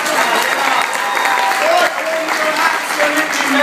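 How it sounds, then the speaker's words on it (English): Stand-up comedy audience applauding and cheering at a live club show, a full crowd clapping steadily and loudly, with scattered voices and whoops mixed in. "can you get the applause going?"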